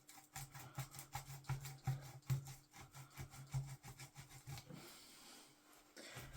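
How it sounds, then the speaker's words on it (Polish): Sandpaper wrapped around a small screw rubs rhythmically against metal while a knife is polished, giving repeated scratchy back-and-forth strokes, close and quiet. "Wezmę sobie taką śrubeczkę i po prostu nałożę na nią papier ścierny."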